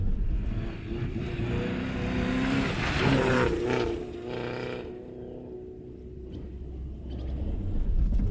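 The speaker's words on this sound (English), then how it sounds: "we decided to try starting the car by towing it and Bob starting it. We were so happy the engine still works." An old, long-abandoned police car's engine runs just after a tow start, a steady broadband rumble that stays loud and close with no voices throughout.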